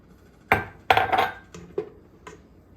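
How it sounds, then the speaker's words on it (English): A spoon clinks and scrapes against a pot while stirring apple juice into strawberry maple sauce, giving about six distinct knocks of varying loudness with short quiet gaps between them. "Give that a bit of a stir"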